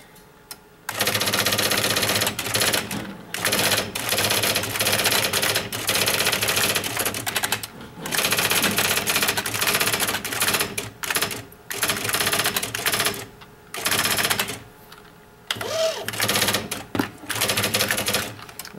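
Keys clack on a typewriter in rapid bursts of typing, close and loud, broken by short pauses and a few sharp strikes near the end, with no talking.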